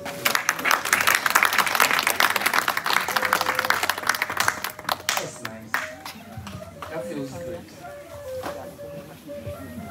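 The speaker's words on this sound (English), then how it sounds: "Can you give me a clap?" An audience at a reception claps loudly and briskly for the first five seconds, then the clapping thins and fades as a tonal background and murmured voices take over.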